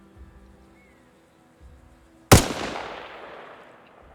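A single M27 IAR rifle shot fired at a wooden fence in Arma Reforger, loud and sharp with a long rolling echo that fades over about two seconds after a quiet lead-in.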